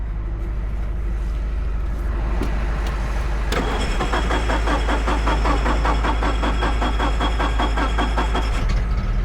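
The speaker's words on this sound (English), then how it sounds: "There she goes. Almost thought it wasn't gonna start." A forklift engine cranks over and then catches, settling into a loud, steady, throbbing diesel idle close by, running on without talk.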